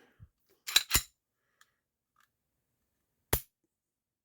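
Crisp metallic clicks from the trigger of a Smith & Wesson SD9VE pistol being pulled and reset: a quick close pair of sharp snaps, then a single click a few seconds later, alone in near silence.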